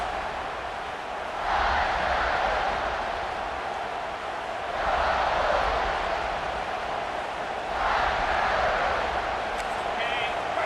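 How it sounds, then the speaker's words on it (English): Stadium crowd roar from the college football video game NCAA 26, a broad continuous roar that swells in several waves, with a game commentator talking over it. "The roar of the crowd trying to fuel this defense to keep them pinned in their own end."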